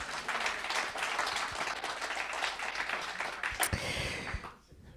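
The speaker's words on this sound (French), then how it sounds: "Est-ce qu'on peut les applaudir?" A church congregation applauds together, a dense burst of clapping that holds steady for about four seconds and then quickly dies away.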